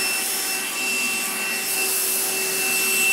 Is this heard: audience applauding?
no